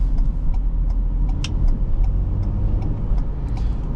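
Ford Police Interceptor Utility Hybrid 3.3L SUV accelerating from inside the cabin, a low steady engine and road rumble with faint clicking ticks, close and continuous without speech.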